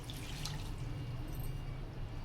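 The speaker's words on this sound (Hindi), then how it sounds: "1 गिलास इसके अंदर पानी जाएगा।" A glass of water is poured into a cooking pot holding okra and mutton with spices before pressure cooking; a soft, faint continuous splash and trickle with no talking.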